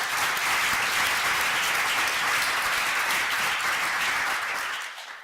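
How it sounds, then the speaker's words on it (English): Applause from a meeting audience, steady dense clapping that holds evenly for about five seconds before tapering off at the end, with no talking over it. "I really want to ask everybody to join me to giving a round of applause."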